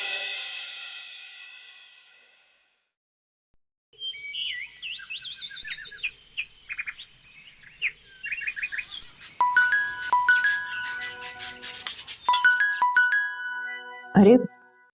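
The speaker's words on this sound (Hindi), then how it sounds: "अरे बीजान का फोन है।" A mobile phone rings with an incoming call, a chirpy electronic ringtone repeating in bright, rapid bursts after a brief pause, fairly loud and close, with the end of a voice at the start.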